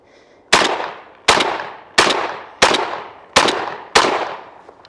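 A MAC 1014 shotgun fired at an outdoor range, six loud, sharp blasts at an even pace about seven-tenths of a second apart, each followed by a brief decaying echo, with no talking.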